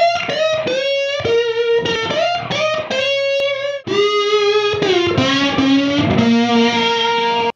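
Electric guitar played with a slide through a UAFX Lion 68 amp modeler pedal on the Brown sound, volume and boost cranked to 10, giving loud, distorted sustained notes with gliding pitch bends and a brief break midway.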